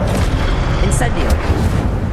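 The Incendio fire spell in Hogwarts Legacy bursts as a loud, rumbling whoosh of flame, thick and booming throughout with a couple of sharp crackling flares, and a voice is present alongside it.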